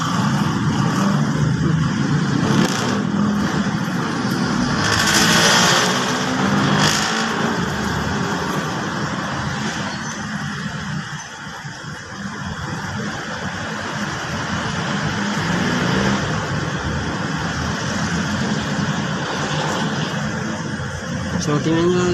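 A car engine running steadily as the car pulls into a petrol station, a continuous low drone with mild revving while someone talks over it.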